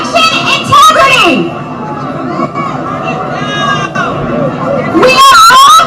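Marchers at a pro-Trump rally for election integrity cheer and whoop in loud bursts at the start and end, with a voice talking over the crowd's hubbub in between.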